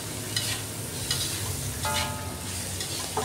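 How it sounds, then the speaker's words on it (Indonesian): Bean sprouts and egg stir-fried in a pan with seasoning: a steady, close sizzle with a spatula scraping and tossing every second or so, and no voices. "Lanjut kita masukkan telurnya dan kita tumis sampai matang."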